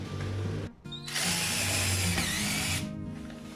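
A power drill whirs loudly and continuously, briefly stopping, then revving up again at high speed before easing slightly.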